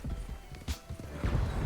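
Horse hooves in Red Dead Redemption 2, a few uneven clip-clop thuds as the horse is mounted and starts moving, close and moderately loud with faint game ambience around them.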